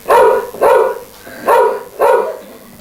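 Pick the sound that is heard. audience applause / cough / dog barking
dog barking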